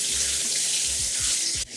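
Tap water runs steadily into a sink as vegetables are washed under it, a loud, close, continuous splashing rush with a few dull knocks, cutting off abruptly near the end.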